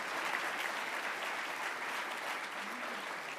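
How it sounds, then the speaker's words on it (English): Audience clapping at an annual meeting and awards presentation, a steady even wash of applause from a crowd throughout, fairly distant and soft. "So let's give them a round of applause."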